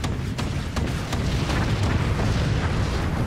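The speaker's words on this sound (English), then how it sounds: "Yeah, I'm guessing this is the cannon. That's a big ass cannon." Cannon firing in the video game Forts, a rumbling barrage of booms and dull blasts over a constant low roar, loud and continuous with several sharper cracks.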